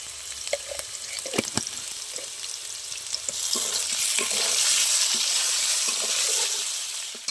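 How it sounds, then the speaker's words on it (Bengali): Potatoes frying in oil in a pan, a close crackling sizzle with scattered clicks that swells into a louder, denser hiss midway, no voices. "ভাজা হয়ে গেছে আলু, এবার আমি তুলে নেব।"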